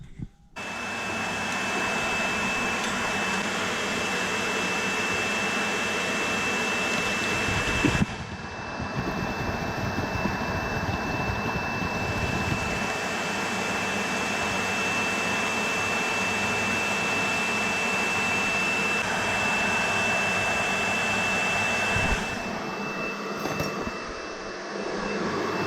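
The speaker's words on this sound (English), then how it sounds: "It happens to be connected to a vacuum cleaner." A vacuum cleaner hose hooked into an engine's oil filler through the tappet cover and PCV hose, used during a sump plug change; a steady, loud motor whine runs throughout with a brief dip in pitch partway.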